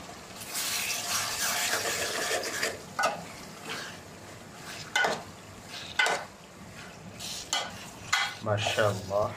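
Meat added to a pot of fried spice paste for bhuna khichuri and stirred, with a wet frying hiss and irregular scraping bursts of the spoon against the pot, moderately close.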